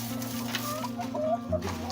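A few soft chicken clucks sound nearby against a steady low hum, quiet and brief.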